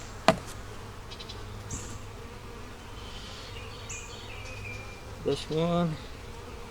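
Honey bees hum faintly and steadily around an opened hive over a constant low drone, with a sharp knock near the start and a brief voice toward the end.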